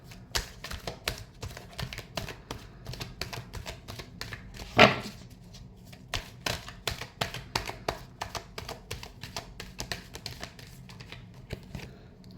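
Tarot cards are shuffled by hand, making a long series of quick, crisp riffling taps close by, with one sharper snap partway through and no talk over it.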